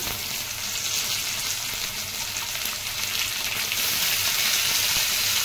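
Boiled broad beans and cauliflower fry in a pan with a steady, close, hissing sizzle that holds evenly throughout, with no talking.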